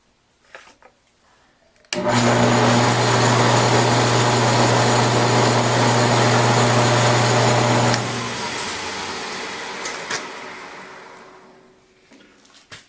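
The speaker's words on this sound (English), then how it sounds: "I'm going to spot drill it" A machine spindle whirs loudly with a steady high hum while spot drilling metal, holding for several seconds before winding down and fading out.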